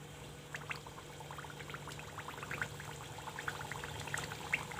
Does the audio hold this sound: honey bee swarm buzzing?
no